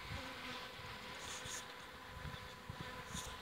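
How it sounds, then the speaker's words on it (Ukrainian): Steady buzzing of many bees close by at an apiary in spring, a soft continuous hum with individual insects swelling louder as they fly past. "І бджілки вже працюють."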